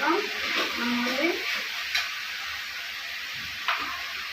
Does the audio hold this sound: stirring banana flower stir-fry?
yes